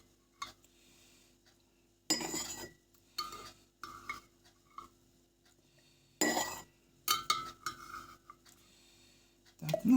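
A spoon skimming cream from a pot of milk clinks and scrapes against the metal pot in a few short bursts separated by quiet gaps, close and fairly soft.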